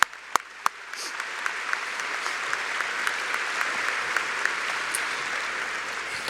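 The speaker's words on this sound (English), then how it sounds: "Please another round of applause for all of our veterans." Applause for veterans at a Norwood High School graduation ceremony, a few sharp claps swelling into sustained, dense clapping from a large crowd.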